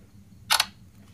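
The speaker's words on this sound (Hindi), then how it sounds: "यहाँ पर एक पिक्चर क्लिक कर लेता हूँ मैं" An Infinix S5 Pro phone camera takes a picture with a single crisp shutter click, split into two quick close-spaced snaps, in an otherwise quiet room.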